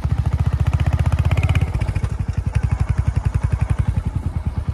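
Motorcycle engine chugging at close range in an even, rapid rhythm, holding steady and then easing into a slightly looser pulse while moving along on a ride near a hilltop helipad, with no voices.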